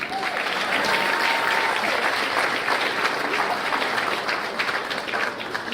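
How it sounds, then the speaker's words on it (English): An awards ceremony audience applauds as a National Press Club chairman is welcomed to the stage, a steady, full roar of clapping sustained at even volume for nearly six seconds. "Please put your hands together for Jeff Ballou."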